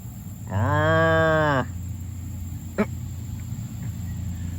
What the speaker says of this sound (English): Say hey to the cows.